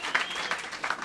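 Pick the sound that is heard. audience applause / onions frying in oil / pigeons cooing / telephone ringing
audience applause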